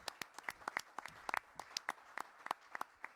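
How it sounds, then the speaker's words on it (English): A small audience at a state COVID-19 vaccination briefing gives sparse, scattered applause for the Co-op City community. Individual claps stand out from a few people, quiet and somewhat distant, lasting about three seconds. "Let's give them all a strong round of applause as well."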